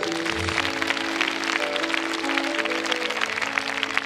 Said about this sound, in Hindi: आइए हाथ उठाएं और ताली बजा के परमेश्वर को आदर दें